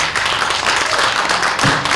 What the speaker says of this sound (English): Would you please join me in giving these fantastic young people a round of applause?